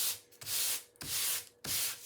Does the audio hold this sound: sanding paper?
yes